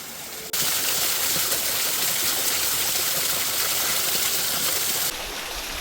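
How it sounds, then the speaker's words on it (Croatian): A small waterfall roughly 3.5 metres high on a river pours steadily, a loud broadband rushing roar close by that fills the whole stretch without pause. "Pronašli smo još jedan vodopad."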